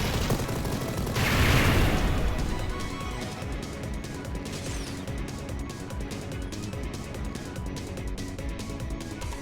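Rapid gunfire from the Mighty Goose video game rattles in a dense, continuous stream layered over busy game music, loud and steady throughout.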